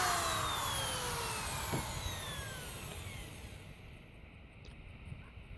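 A chop saw cutting 2x4 lumber: the motor's high whine winds down and fades over several seconds, leaving a low rumble and a faint knock near the end.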